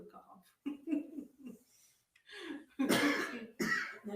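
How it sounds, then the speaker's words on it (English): An elderly woman coughs and clears her throat in short rough bursts amid conversation, several harsh, close, fairly loud throaty rasps interleaved with talking voices. "Grandma wants to cough."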